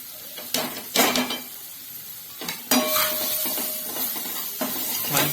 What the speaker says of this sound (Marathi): लसूण, ते आपल्याला तेलात फ्राय करून घ्यायचं आहे.